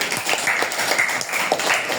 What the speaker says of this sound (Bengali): সুমাই আক্তারের জন্য জোরে একটা করতালি দাও